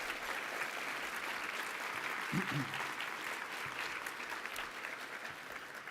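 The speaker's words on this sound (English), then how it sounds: "So please give her a round of applause." Steady applause from an audience at an awards luncheon, a dense even patter of clapping that holds at a moderate level throughout.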